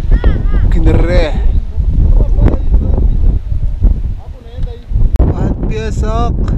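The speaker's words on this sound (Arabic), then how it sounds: "كاين الريح" Wind blows steadily while someone cycles a rural road in Tanzania, a constant low rumble of buffeting under near continuous talking.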